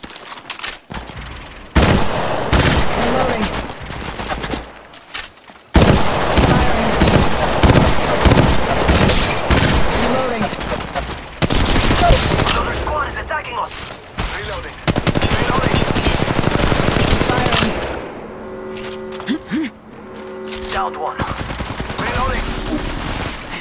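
Sustained automatic weapon fire in the mobile shooter Apex Legends Mobile, dense rattling bursts with short pauses between them, loud and up close, ending with a few softer game sounds.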